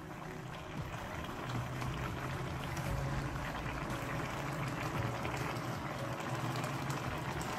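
Chinese cabbage potée simmering in a pot, a steady soft bubbling and burbling with a low hum underneath, continuous and fairly faint, close by with no talk.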